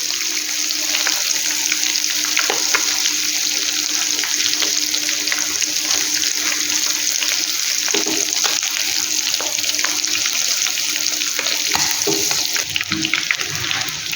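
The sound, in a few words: chicken frying and browning over high flame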